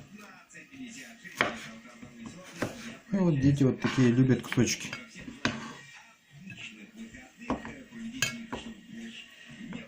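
A knife cuts fish with sharp taps against a board and light clinks, under steady nearby talking.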